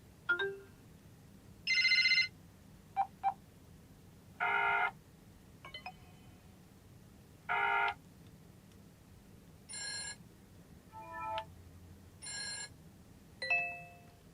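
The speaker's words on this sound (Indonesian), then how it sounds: "ini adalah ringtone BBM" BBM message ringtone on a BlackBerry Gemini 8520 phone, a series of short bright electronic chime bursts played one after another with brief gaps, clear and close over faint background hum.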